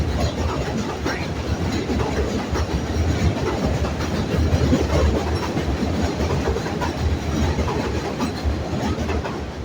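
A train rumbles steadily across the elevated JM line overpass overhead, a loud, continuous roar with rhythmic clickety-clack of wheels on rails, heard from directly beneath the structure.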